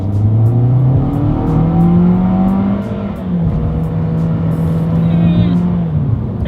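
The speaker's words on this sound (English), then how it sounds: "let's do a quick little acceleration test here, and let's see how quickly we can get the new 2021 Corolla here up to speed" A 2021 Toyota Corolla compact car accelerates hard along a straightaway, its engine note climbing steadily through the gears with brief shift dips, loud and continuous from inside the cabin.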